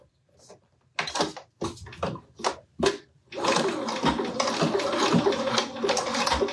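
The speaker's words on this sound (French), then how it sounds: "Quel plaisir quand ça coud correctement." A sewing machine stitches a fabric pouch, opening with a few short separate bursts and then settling into a steady, loud continuous run that fills the rest of the clip.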